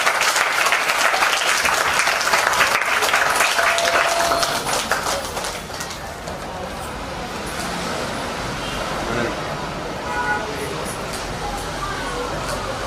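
A school audience at a Sankranti celebration claps loudly and densely at first, then the applause thins and fades to scattered claps over crowd murmur and some background noise.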